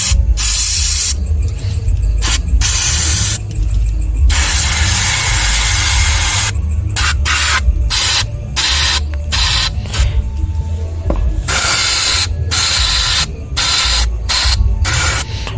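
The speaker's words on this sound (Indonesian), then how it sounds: "lubang in bensin kita semprot sampai tembus ke lubang pelampung." Carburetor cleaner sprays through the jets and float-bowl passages of a Suzuki Carry 1.0 carburetor, loud hissing bursts repeatedly starting and stopping in quick, uneven pulses over a low background rumble.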